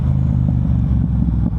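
A Yamaha MT-07 motorcycle fitted with an Akrapovic full exhaust rumbles loud and close in a steady, deep, throbbing drone with no voices over it.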